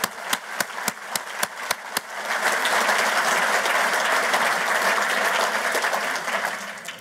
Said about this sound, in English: if you would join me in applause for all of the people that deserve those awards